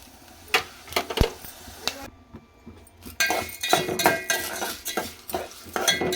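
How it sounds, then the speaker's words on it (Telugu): Coriander seeds dropped into hot oil for a curry leaf powder, sizzling softly close by amid clinks and scrapes of a spoon stirring in a metal pan, with a brief quiet gap partway through. "ముందుగా ధనియాలు వేస్తున్నాను."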